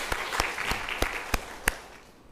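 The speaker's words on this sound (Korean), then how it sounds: "이렇게 귀한 단비를 내려주신 하나님께 영광의 박수 돌려드리겠습니다" Several sharp, separate claps ring out in a church service at Pentecost, about six distinct strikes spaced unevenly across a couple of seconds over a quiet room, fading at the end.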